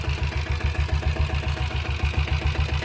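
A diesel Royal Enfield Bullet motorcycle from 1997 with self start idles steadily, its single-cylinder engine thumping in a fast even rhythm, loud and close throughout.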